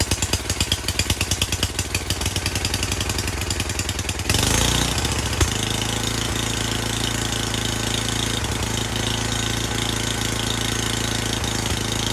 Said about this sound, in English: One pull and this engine fired right up.